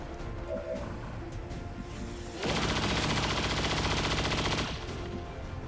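Suppression fire in the strategy game XCOM 2: a loud, continuous burst of rapid automatic gunfire, lasting about two seconds over a steady background of game ambience.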